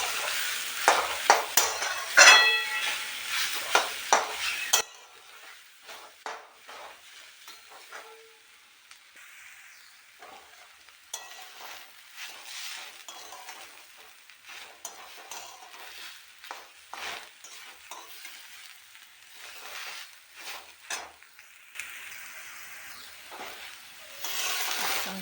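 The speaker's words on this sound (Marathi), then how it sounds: "चांगलं मिक्स करून घेऊ. 2 मिनिटासाठी असंच आपण शिजवून घेऊ." Grated bottle gourd halwa stirred and cooked in a pan: a bright hissing burst with scraping at first, then quieter, intermittent spoon scrapes and soft sizzling over low background, rising again near the end.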